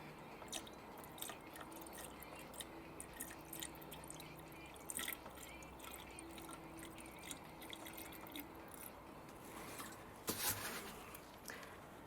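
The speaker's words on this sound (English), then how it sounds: "So I have a little bit of ready mixed antifreeze here. I'm just gonna add a little bit." Faint trickling and dripping as ready-mixed antifreeze coolant is poured into the coolant reservoir of a 2006 BMW E83 X3 2.5si. The soft liquid sound continues throughout, with a few louder splashes and knocks.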